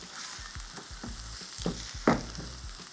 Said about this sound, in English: And we just want to saute this until the onions go translucent.